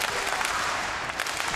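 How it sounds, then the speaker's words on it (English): A wrestling arena crowd at an AEW event in Jacksonville claps in the Terminator rhythm, a dense, loud wash of many hands with faint pulsing accents throughout. "Terminator clap ringing out here in Jacksonville."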